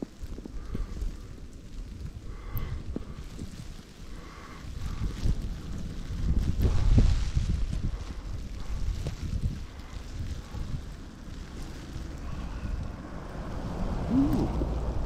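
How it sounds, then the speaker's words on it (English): Wind blowing steadily through a New York snowstorm, a continuous rushing roar with buffeting on the microphone that swells and eases over time. "you can tell the wind is kicking in"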